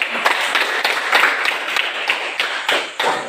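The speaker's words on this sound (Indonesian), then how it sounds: "Oke, kita tepuk tangan untuk kelompok ini." A classroom group claps for a student group during a teacher training lesson: a small cluster of hands giving brisk, uneven clapping at close range, with no talk over it.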